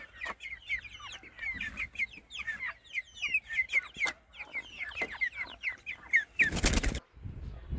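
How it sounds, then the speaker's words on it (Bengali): Tiger chickens on a farm cluck repeatedly in close, overlapping bursts, and a loud flurry of flapping wings breaks out near the end. "একদম অরিজিনাল টাইগার মুরগি এটা।"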